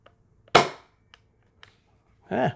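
A toy 1887 lever-action shotgun, an air-piston model, fires once with a sharp, close pop, followed by light clicks and handling knocks and a brief low voice near the end.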